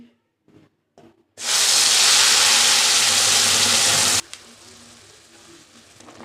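A paste of bottle gourd leaves and prawns dropped into hot mustard oil in a wok bursts into a loud, steady sizzle that lasts about three seconds, then drops to a softer crackle.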